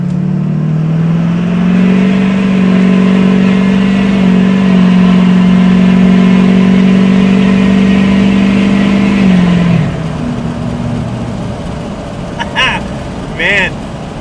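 An LMM Duramax diesel truck with a 5 inch straight pipe exhaust drones loudly at steady cruise, then shifts and settles lower, with brief clicks near the end and a voice talking over it at times.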